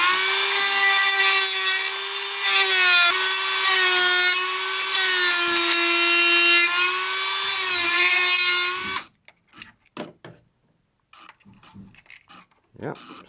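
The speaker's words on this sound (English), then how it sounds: "Now I'm going to trim all this out with the Dremel underneath." A Dremel rotary tool whines at high pitch for several seconds, its tone dipping and rising as it cuts into the plastic interior of a Scalextric Mini slot car, then stops, followed by scattered light clicks and handling noises.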